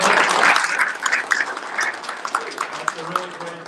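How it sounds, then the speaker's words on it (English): A round of applause from the audience at a startup founders' showcase event in Houston, clapping fairly loud and fading gradually over a few seconds, with a voice speaking over it. "Let's give a round of applause."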